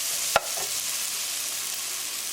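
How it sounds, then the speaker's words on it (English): Spices sizzle in a hot tadka, a steady crackling hiss of frying that carries on evenly. A spoon clinks sharply once near the start, and a soft stirring scrape follows. "Cook spices along with tadka for half minute"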